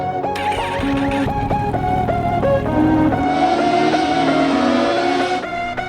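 A Kawasaki Ninja 650 revs through rising gear-stepped engine pitches as it accelerates on the interstate to pass a car, loud and close with steady wind rush and no talking.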